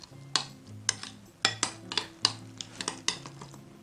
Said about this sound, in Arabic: نحرك هيدي المكونات سويا